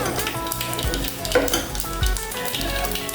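Curry leaves and asafoetida sizzle and crackle in hot oil for majjiga pulusu, a loud, close frying hiss with sharp pops and some stirring, with no voices.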